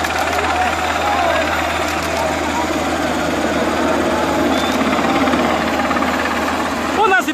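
Helicopter hovering low over the Suchiate River, blasting downwash at migrants crossing below: a loud, steady rotor and engine drone that fills the whole stretch, with faint voices underneath.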